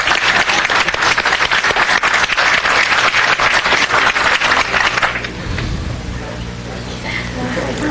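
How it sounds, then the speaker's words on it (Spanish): Applause from an audience at a city council meeting honoring a couple's 65th wedding anniversary, loud dense clapping for about five seconds that then drops off into quieter room noise. "Un aplauso."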